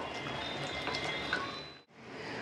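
Thotakura mutton curry seasoned with whole garam masala simmering in a pot, a soft, steady bubbling that runs evenly and then cuts out briefly near the end.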